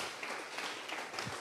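A church congregation applauds with a dense, steady wash of clapping that fills the room at moderate loudness and has no clear pauses.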